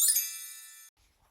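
A single bright bell chime rings out clearly, its metallic tone sustaining and slowly decaying before cutting off, followed by near silence.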